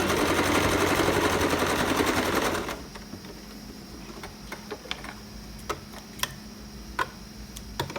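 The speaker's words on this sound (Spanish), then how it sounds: "Y lo voy a coser aquí a 1 centímetro, que es el hilván que yo le he dejado." A sewing machine stitches a sport collar in a fast, loud mechanical whir for about two and a half seconds, then stops, leaving quiet handling clicks and light taps.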